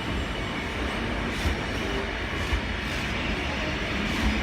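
An EWS Energy freight train led by locomotive 66050 passes through Exeter St David's station, a steady loud rumble of wagons rolling by with faint rhythmic wheel clicks throughout.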